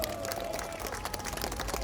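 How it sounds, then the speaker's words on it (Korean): A crowd applauds the candidate Oh Se-hoon at a street rally in Seoul, a short, dense patter of clapping heard at moderate level. "큰 박수 부탁드리겠습니다"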